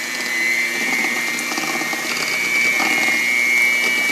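Eggnog batter for a sweet potato pie being mixed, with a loud, continuous motorized whir that holds steady for the whole stretch without pauses.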